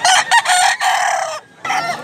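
A ten-month-old Talisayin grey bullstag rooster crows loudly and close, in a few strong bursts with a brief gap before the final call.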